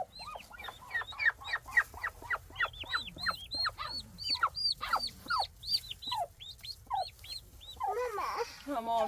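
Chickens on a farm cluck and squawk in a steady stream of short, rising calls with rapid overlapping bursts, fairly close and continuous over quiet background noise.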